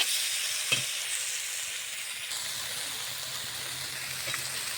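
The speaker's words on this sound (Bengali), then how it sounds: "অনেক টাইম ধরেই মাছটাকে সুন্দর করে কষিয়ে নিলাম" A fish curry with prawns stir-fried in a pan, a steady hissing sizzle with a couple of sharp spatula knocks and scrapes close by.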